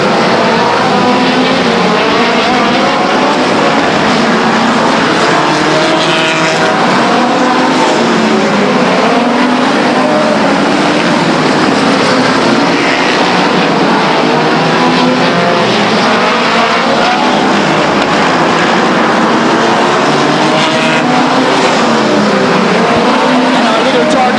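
Race cars circling Stockton 99 Speedway, a quarter-mile oval, as leaders lap the field: a dense, continuous roar of several engines rising and falling as they pass, loud and steady throughout with an announcer talking over it.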